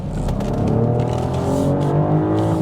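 A petrol BMW X7 SUV engine hums with a steady, close rumble from inside the cabin while driving, a smooth continuous note that swells slightly without breaks.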